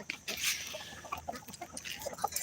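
Chickens in a barn cluck and chatter all through at a moderate distance, with scattered rustling movement in the background.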